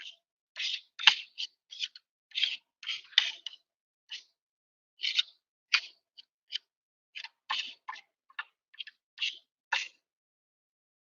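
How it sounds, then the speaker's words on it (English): A metal spoon scrapes ground spices off a surface in repeated short, close rasping strokes separated by brief pauses, with no talking. "Scrape off as much of that as I can."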